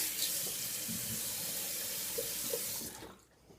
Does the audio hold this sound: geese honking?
no